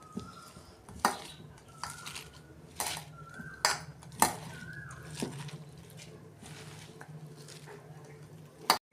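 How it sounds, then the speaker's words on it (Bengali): Metal clatter and knocks as salted shredded cabbage is stirred in a bowl and a lid is set over it, sharp clinks and scrapes at irregular intervals, close and fairly loud, ending with a final clank. "এই যে ঢাকা দিয়ে রাখছি।"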